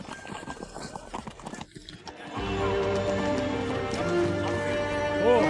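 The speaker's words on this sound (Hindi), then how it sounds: "जल्दी दरवाजा खोलो, घोड़े वापस आ गए हैं।" Returning horses in a dramatic scene, hooves clip-clopping and a neigh audible early under a busy mix, then drowned by a loud swelling musical score.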